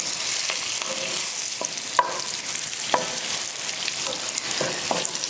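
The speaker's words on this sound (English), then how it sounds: "I'm gonna give that a quick" Spoon stirring oregano, cumin and bay leaf in a hot pan, giving a steady sizzle with soft scraping strokes and a couple of sharper clicks against the pan, close and alone.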